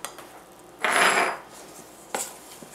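Spoon stirring chopped maraschino cherries into stiff cookie dough in a bowl, a soft knock, then a half-second scraping smear, then another light tap, close and quiet.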